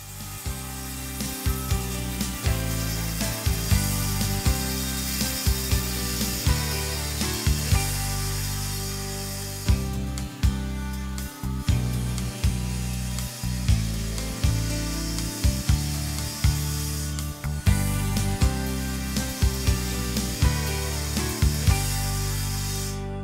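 A saw cutting wood for cabinet sides, a sustained loud whining drone broken by two short pauses, with a rapid series of small knocks and catches repeating along the cut, no speech.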